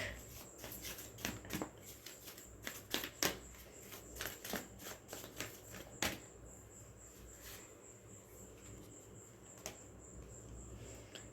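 A deck of cards is handled close up, with quiet riffling, flicking and tapping in irregular bursts that thin out toward the end, and no talk.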